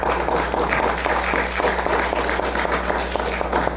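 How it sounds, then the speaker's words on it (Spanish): An audience applauds for engineers at an event on archaeological finds, steady dense clapping over a low constant hum, sustained throughout. "Un aplauso para los ingenieros."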